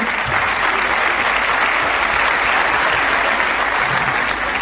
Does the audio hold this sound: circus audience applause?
yes